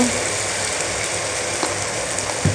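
Meat sautéing in a pan gives a steady, close sizzle and hiss with faint scraping stirs near the end, no voices present.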